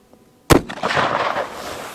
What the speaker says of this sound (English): I'm going to shoot 3 more of these Minuteman loads here